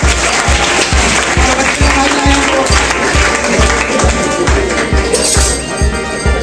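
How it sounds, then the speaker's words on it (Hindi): Applause from the audience at a school awards ceremony in Saran, Bihar, where top-ranked students receive trophies. Clapping runs loud and continuous under a strong rhythmic beat of thumping music, which nearly masks it. "एक बार जोरदार तालियों से स्वागत बताइए"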